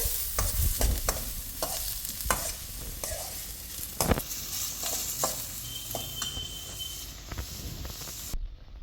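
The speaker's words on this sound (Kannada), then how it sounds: "ಈರುಳ್ಳಿನ ಫ್ರೈ ಮಾಡಬೇಕಾದ್ರೆ ಸ್ವಲ್ಪ ಉಪ್ಪು, ಚೆನ್ನಾಗಿ ಫ್ರೈ ಆಗಲಿ" Onions sizzle in a hot pan for egg bhurji while a spatula stirs them in irregular scraping strokes, close and steady, with a faint high whine near the end and no speech.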